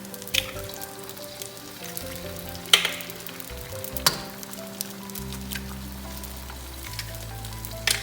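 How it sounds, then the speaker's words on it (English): Two eggs cracked into a little oil in a pan for pad thai with Gulf shrimp, frying with a steady soft sizzle and a few sharp pops and taps, no speech. "So put a little bit of oil and just crack the eggs in there."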